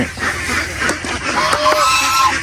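A flock of geese honks and squawks nearby on a duck farm, overlapping calls filling the air continuously with a few sharper cries standing out.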